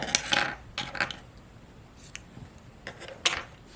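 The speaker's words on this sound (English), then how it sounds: "So to fasten off, I chain 1, and I'm going to cut my yarn," Sharp snips of scissors cutting crochet yarn, a quick cluster of clicks near the start, a couple more after, then a final crisp snip, close up over quiet room tone.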